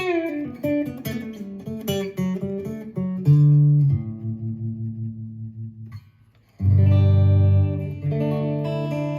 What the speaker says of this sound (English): You're hearing those few buzzy strings.